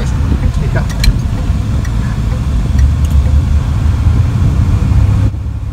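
A car with a repaired MOPAR 7 1/4-inch rear axle bearing and seal rolls back into a driveway, a low steady engine rumble close by, with a voice talking over it.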